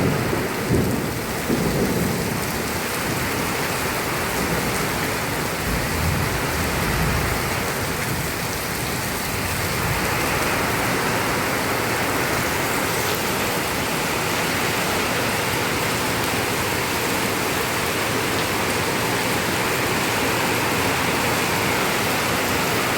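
Heavy rain pours steadily and loudly throughout, with thunder rumbling near the start; a dense, unbroken roar of downpour without voices.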